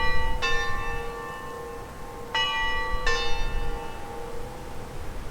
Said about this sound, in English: Honestly, who has bells at this time of day?